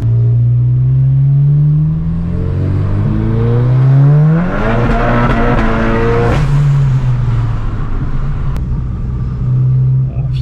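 A tuned Golf 7 GTI Performance, Stage 3 at around 500 hp with pops and bangs, accelerates hard. Its engine note climbs steadily through the gears, loud and close, with rumbling exhaust crackle between shifts.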